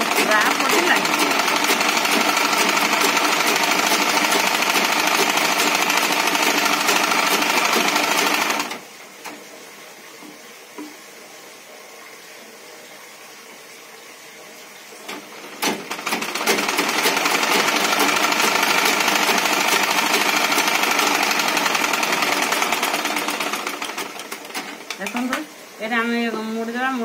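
An electric sewing machine stitches a blouse in two long, loud, rapid whirring bursts separated by a quieter pause, with someone talking nearby.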